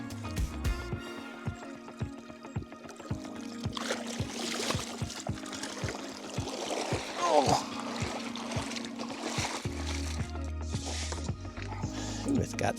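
Water trickles, drips and splashes as it is gathered outdoors into a beer keg, irregular wet sounds close by with a person speaking intermittently over them.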